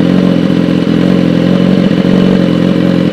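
BMW S1000RR sportbike with full carbon bodywork, its engine running loud and close with a hard, continuous mechanical drone and a rev held high for the whole stretch.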